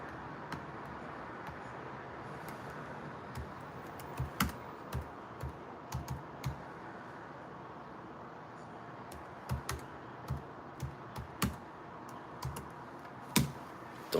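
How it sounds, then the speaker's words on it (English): Someone types on a computer keyboard in a quiet room. The keys click in uneven little bursts with pauses between them, faint but close, and no one speaks. "Don't laugh at my typing."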